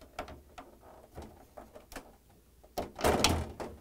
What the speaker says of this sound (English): I'm going to use the flathead blade screwdriver, and I'm going to pull up on the tab, and at the same time I'm going to lift on the drawer.